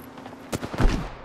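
In a battle royale video game, a short burst of gunfire cracks out in a quick rapid cluster of shots at moderate distance, with no talk.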